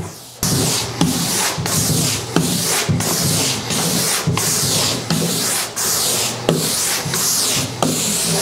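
Creamy wax is swirled with a brush or cloth onto a painted surface, producing close, repeated rubbing strokes in an even rhythm, each about a second long and separated by short pauses.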